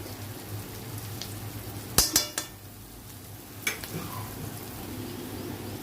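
Masala with garlic and turmeric cooking in a pan, a faint steady sizzle broken by a cluster of sharp metallic clinks of a spoon against the pan and one later clink, close by and without talk.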